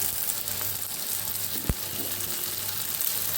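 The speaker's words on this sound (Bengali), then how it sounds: "এখন এটাকে ভাজি ভাজি করে নেব।" Spices and boiled dal fry in a pan for Bengali ghugni, giving a steady, soft sizzling hiss broken by one brief utensil tap.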